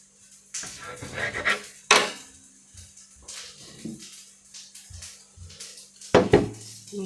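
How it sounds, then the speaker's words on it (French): Bacon slices being cut into small pieces, knife taps and clacks on a board coming in uneven bursts along with clinks of utensils and dishes, close and fairly loud, with almost no talking. "Et on va les découper en petits bouts."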